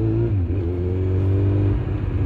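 A Kawasaki Z1000 motorcycle fitted with a full Akrapovič exhaust system revs steadily, its loud engine note holding a strong low drone with a brief pitch shift near the start.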